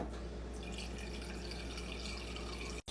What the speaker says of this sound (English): First, I'm going to fill this measuring cup up with water.